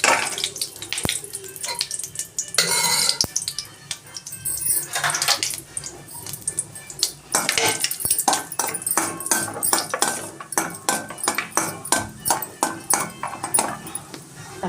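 Cashews frying in ghee for a kaju mutton recipe, with a steady hiss broken by bursts of scraping and metal clinks as a spoon stirs them in the pan, up close.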